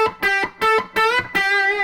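A distorted electric guitar plays a short lead lick from the outro solo, with choppy repeated notes and a sustained full bend ringing out at the end, alone.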